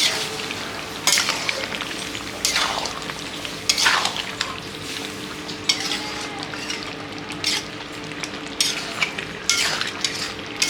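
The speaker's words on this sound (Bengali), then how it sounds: "সুন্দর করে নাড়িয়ে দিই।" Chicken masala fries and sizzles in a pan while being stirred, with repeated scraping strokes of a utensil against the metal over a steady close sizzle, no voices.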